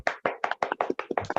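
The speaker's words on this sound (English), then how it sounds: "Come on, guys, I need a thunderous round of applause." A short burst of close individual clapping at an online meeting, about eight distinct sharp claps in quick rhythm.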